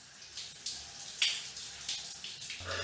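A hotel room shower runs softly, a faint hiss of falling water with a few brief splashes and knocks, quiet and close with no talking.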